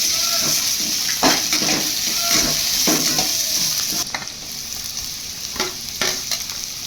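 Beans, onion and capsicum fry in a pan for paneer fried rice, a loud, even sizzle with rhythmic stirring scrapes and occasional clinks of the spatula against the pan.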